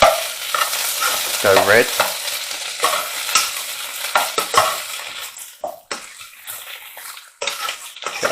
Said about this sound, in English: we're going to give that a good mix around